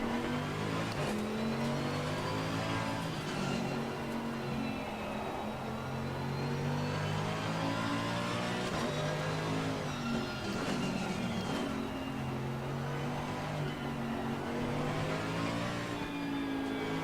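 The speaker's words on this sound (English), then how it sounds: "I love the noise of the gear change." Race car engine in the sim racing game Assetto Corsa Competizione at the Nürburgring, droning steadily and loud with shifting pitch as gears change, continuous throughout with no talking.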